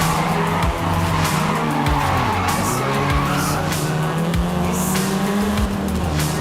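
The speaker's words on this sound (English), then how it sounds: "This version is the Volkswagen Golf R," A Volkswagen Golf R (seventh generation) in Forza Horizon 5 roars loudly and steadily throughout, engine tones shifting in pitch while tires squeal and skid across the surface, with no talking.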